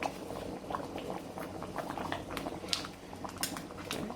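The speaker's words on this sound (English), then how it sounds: "I'm just gonna let it do a very slow simmer" Beef stew simmering slowly in a covered pot on a stovetop, a steady soft bubbling and popping patter that continues evenly throughout.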